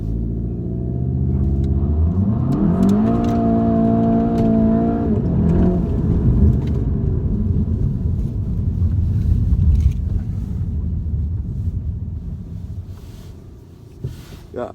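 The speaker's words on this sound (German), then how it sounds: "dreht mit dem linken Fuß die Bremse und gleichzeitig mit dem rechten das Gas durch, gehen dann irgendwann von der Bremse runter" A 2019 Volkswagen Golf GTI TCR with 290 hp doing a launch control start: the engine holds high revs against the brake, then roars off as it accelerates hard through the gears and fades away, loud and close with no talk.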